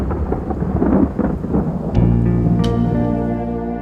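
Heavy rain pours down in the Great Sandy Desert while a deep rumble of thunder rolls underneath, then a steady low hum carries on beneath the loud continuous downpour.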